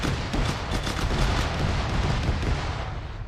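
Rifle rounds fired in ArmA 3, a sustained rumbling barrage of overlapping shots and booms, loud and dense throughout with no clear gaps.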